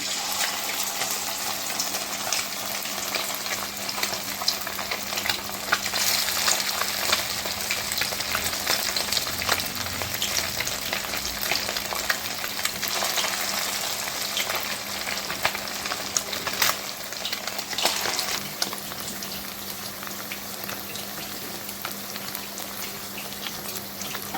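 Kachki fish pakoras fry in hot oil over a medium flame, giving a steady, dense sizzle and crackle that runs unbroken and close for the whole stretch, with no talking.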